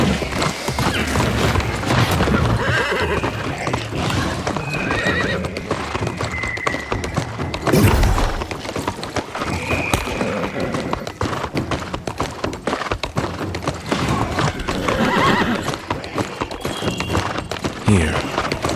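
Horse in New World Aeternum, its hooves clip-clopping in a fast steady gallop near and loud, with occasional neighs and a heavy thud midway.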